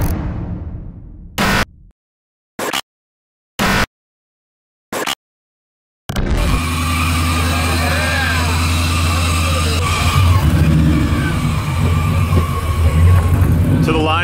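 Drag race cars launching at the starting line, a few brief cut-in bursts of noise and then a loud, sustained roar of engines running on.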